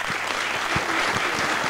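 An audience breaks into applause after a speech, a brief burst of dense, even clapping from a room full of people.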